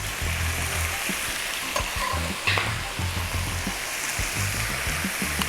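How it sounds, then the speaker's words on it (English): Garlic and onions sauté in bacon drippings in a pan, stirred with a wooden spoon, giving a loud, continuous sizzle with occasional stirring clatters. "I think I'll use a wooden spoon for this. And just saute this around"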